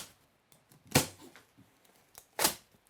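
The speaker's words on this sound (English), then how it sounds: "we're going to take your knife and we're going to cut straps" A knife snaps through the packaging straps on a Surface 604 Colt box, giving two sharp, close cracks about a second and a half apart, with faint handling noise between them.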